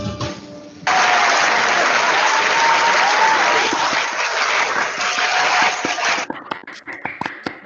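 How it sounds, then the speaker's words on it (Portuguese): A large group applauds loudly and steadily for several seconds, then breaks into scattered, fading claps. A brief murmur of voices comes just before the clapping. "Batam palmas pra ele, batam palmas pra ele"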